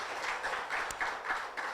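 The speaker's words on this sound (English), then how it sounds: "Let's give him a big, warm round of applause." Audience applause rises in quick rhythmic bursts for Dr. Canisius Kanangire, AATF Executive Director, at the OFAB Africa Media Awards 2023 ceremony. The clapping is steady and moderately distant, with no talk over it.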